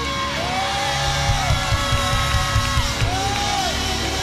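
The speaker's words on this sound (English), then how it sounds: "I dare you to scream like you know something about to happen." A church congregation at a praise service screams and cheers, a dense crowd roar with whoops and yells rising and falling throughout, loud and sustained with rising tonal cries over it.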